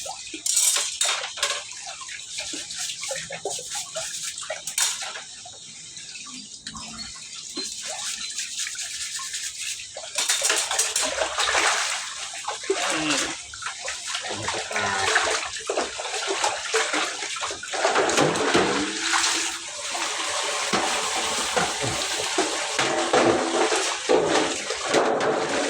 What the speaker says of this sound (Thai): ล้างถาดไก่ล้างถาดไก่ งานประจำทุกเช้า